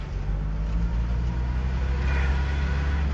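Car engine started and idling steadily during a driving-school lesson in Sylhet, a low continuous hum with no talk over it.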